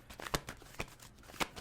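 Playing cards riffled in a tarot-style shuffle, producing three short, crisp bursts of rapid paper flutter spaced apart, close and moderately loud with quiet gaps between.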